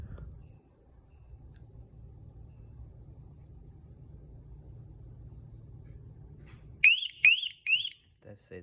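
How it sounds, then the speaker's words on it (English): Detex EAX-500 exit alarm arming with a quick series of three sharp, loud, close electronic beeps followed by a couple of shorter chirps, after a quiet low hum. "It's gonna beep."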